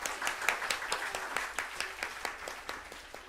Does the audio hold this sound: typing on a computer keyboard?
no